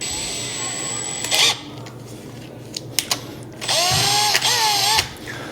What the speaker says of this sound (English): let's see if I could drill a hole straight in there